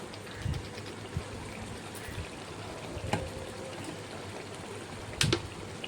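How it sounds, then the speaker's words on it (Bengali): Taro leaf and prawn curry with green chilli simmering in a pot, a faint, steady bubbling with a few soft pops and splutters close by, no voices. "একটু ফুটবে,"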